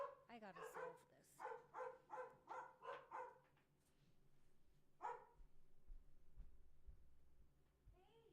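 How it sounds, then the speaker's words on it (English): Several real dogs bark in a rapid volley of sharp, repeated woofs that fade out, then a single bark follows after a pause, close and loud, with lower rumbling noise after. "they're barking at the company"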